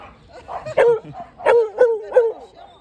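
A dog on a walk in Marseille barks several times in quick succession, loud and close, with short gaps between the barks.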